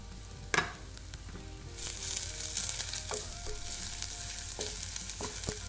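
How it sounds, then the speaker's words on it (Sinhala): Ginger, garlic and chopped onion frying in hot oil for a chicken curry make a soft, continuous sizzle. A sharp clatter comes near the start, and scattered light scrapes and taps from stirring follow. "රත් වුණු තෙල් ටිකට තලාගත්තු ඉඟුරු සුදුරුණු ටිකක් මේ විදිහට එකතු කරන්න"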